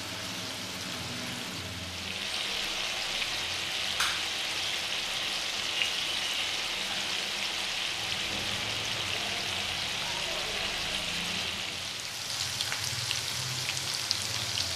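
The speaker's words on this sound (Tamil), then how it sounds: "ஒரு சைடு நல்லா ஃப்ரை ஆகட்டும்." Prawns frying in a pan give a steady, close sizzle that holds evenly throughout with no talk over it, and a few faint clicks and pops come through now and then.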